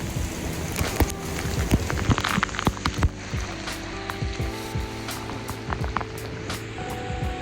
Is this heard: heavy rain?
yes